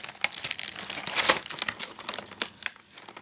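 Tape peels off the display stand of an SH Figuarts Kamen Rider Abyss figure with a close, crinkly rasp of plastic and adhesive in quick irregular bursts that peak near the middle and then taper off.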